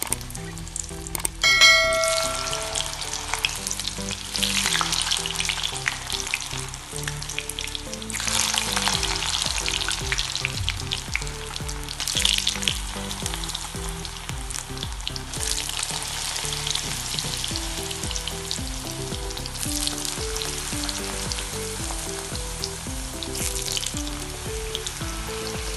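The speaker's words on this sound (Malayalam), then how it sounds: "നമ്മുടെ എണ്ണ ചൂടായി വന്നിട്ടുണ്ടെങ്കിൽ നമുക്ക് പൊട്ടറ്റോസ് ഇട്ടോണം." Potato sticks for French fries deep-frying in hot coconut oil, a steady close sizzle lasting throughout with occasional metal clangs and stirring in the pan.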